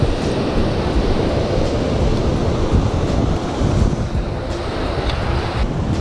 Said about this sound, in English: That was just the waves over there.